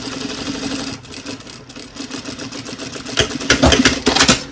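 A sewing machine stitches a folded fabric credit card coin pouch with a fast, even mechanical rattle that runs throughout, growing louder and busier toward the end.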